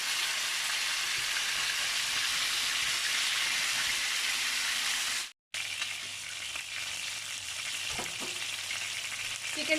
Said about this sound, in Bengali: এক পিঠ হয়ে গিয়েছে, আমি আর এক পিঠটাকে ভেজে নিব।